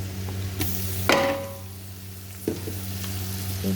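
Garlic hits a hot pan and fries with a steady close sizzle, broken by a couple of sharp clanks and scraping stirs from a utensil against the pan.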